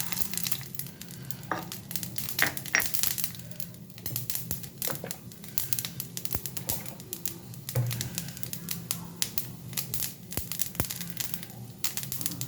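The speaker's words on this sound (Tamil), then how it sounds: "நல்லெண்ணெய் ஊற்றி கடுகு உளுந்து போட்டு தாளிச்சிட்டோம்" Mustard seeds and urad dal tempering in hot sesame oil in a pan, a soft sizzle dotted with irregular sharp crackles and pops, fairly quiet and close.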